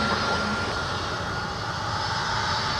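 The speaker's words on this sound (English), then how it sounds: "And Discover cleared for departure off to Frankfurt, Germany as our A300 now joins taxiway whiskey." A Discover Airbus A300 jet taxis at Minneapolis–St. Paul airport, its engines holding a steady, fairly loud roar and whine throughout with no voices.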